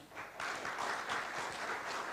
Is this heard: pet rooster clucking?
no